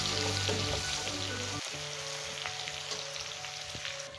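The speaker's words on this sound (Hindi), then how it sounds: "अब इसमें हम प्याज डालेंगे, इसे हमें लाइट ब्राउन करना है।" Onions sizzling and frying in a pan as the base for a fish curry, a steady close crackling hiss with scattered pops that continues without pause.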